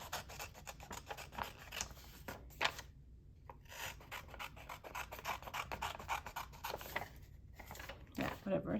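Paper envelope being trimmed with scissors at close range, a run of short crisp snips and rasping cuts with a few brief pauses, while a voice talks quietly between cuts.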